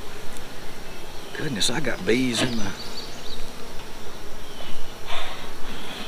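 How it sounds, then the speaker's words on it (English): Continuous buzzing of honey bees close around a hive's brood box and super, with a person briefly speaking and breathing under the steady drone. "I got bees in the super for sure"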